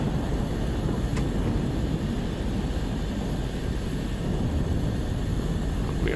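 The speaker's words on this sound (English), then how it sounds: "we are just going to taxi out to the runway" A Black Square Caravan turboprop taxis in Microsoft Flight Simulator 2024, its engine giving a steady, even, close roaring drone that holds level the whole time.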